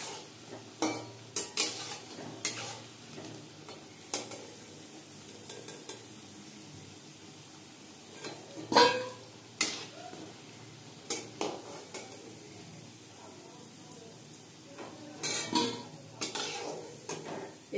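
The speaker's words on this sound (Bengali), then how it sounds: "এইভাবে সব বড়াগুলোকে ভেজে নেব।" Fish egg fritters frying in oil, a soft background sizzle broken by frequent sharp clinks and scrapes of a metal utensil against the pan, irregular and close.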